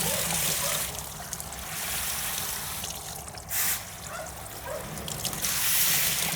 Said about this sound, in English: I want to see the water running clear